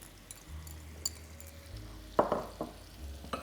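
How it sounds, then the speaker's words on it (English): Chopped apple pieces dropping into melted butter in a pan, giving a soft sizzle that rises with a few brief bursts as the fruit lands and gets stirred, with faint clinks of utensils. "I've already melted my butter, and I started to add the apples."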